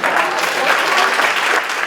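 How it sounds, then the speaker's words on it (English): An audience's round of applause at a conversation event in Richmond, Virginia; a brief burst of full, dense clapping from a crowd, close and loud. "Give yourselves a round of applause."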